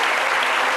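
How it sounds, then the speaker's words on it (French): A studio audience applauds at a French midday talk show, dense and even clapping sustained at full loudness through the short moment, with no voices standing out. "s'il vous plaît. Applaudissez."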